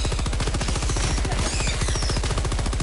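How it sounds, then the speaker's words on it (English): Machine gun fire in the video game Helldivers 2, a loud, rapid, unbroken stream of evenly spaced shots sustained throughout the burst, close and dominant. "shooting fast with a machine gun"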